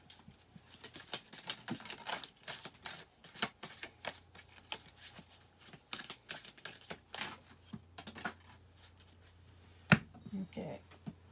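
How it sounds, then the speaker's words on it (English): A deck of tarot cards being shuffled close by, with a run of quick, soft riffling clicks and taps that come and go over several seconds while faint talk sits in the background. "Let me shuffle the other half of the deck"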